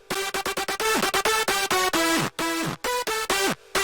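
Bright synth lead without the Novotech Character effect, playing a fast run of short staccato notes followed by longer sliding notes that glide downward in pitch. Loud and close, with no talking.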